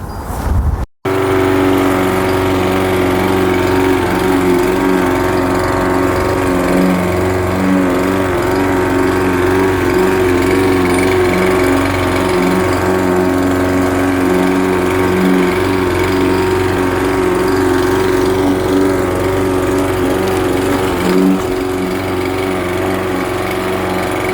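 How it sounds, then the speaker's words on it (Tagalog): A lawn mower cutting grass during a spring yard cleanup, its engine droning loud, close and steady for the whole stretch, with only slight shifts in pitch as it moves. "So natapos na tayo mag lawn mower guys. I already cut the grass all the way there guys"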